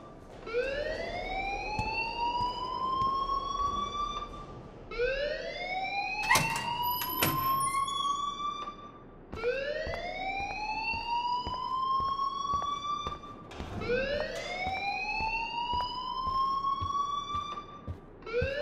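A rising, sweeping electronic alarm wails in repeated cycles inside The Caulfield Chronicles game, each whoop climbing in pitch over about four seconds, loud and continuous, with a brief clatter partway through.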